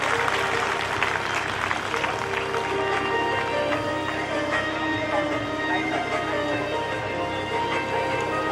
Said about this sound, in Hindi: भगवान श्री राम का स्वागत तो जोरदार तालियों के साथ कर दीजिए।